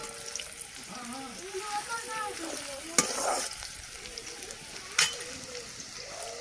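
Onions fry in a pan with a steady sizzle, broken by stirring scrapes and a couple of sharp utensil knocks, while a voice murmurs faintly in the background.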